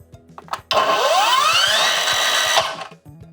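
A Procraft cordless miter saw motor spins up with a soft start, whining upward in pitch, runs steadily for about two seconds, then stops abruptly; a few faint clicks before and after.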